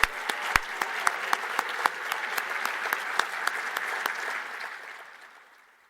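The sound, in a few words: audience applause for honorees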